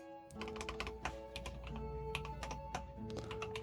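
Rapid typing on a computer keyboard in Notepad, a close, busy stream of clicking keystrokes with short bursts and brief pauses, no voices.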